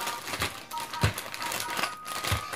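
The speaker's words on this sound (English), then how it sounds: "Now let's open the Play-Doh." Plastic Play-Doh packaging being opened, with several sharp crinkling and crackling bursts at close range, spaced irregularly over a few seconds.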